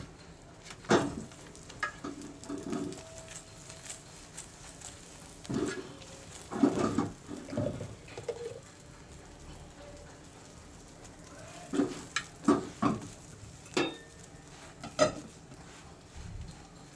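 A ghee-coated paratha fries on a hot pan while a spoon stirs and scrapes it in short bursts over a low, steady sizzle.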